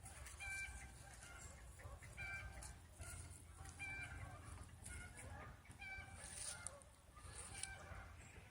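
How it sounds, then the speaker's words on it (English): Backyard chickens clucking and calling in a winter garden, a busy chorus of repeated clucks at moderate distance over steady outdoor background noise, with a few goose-like honks mixed in. "those be chickens making that noise"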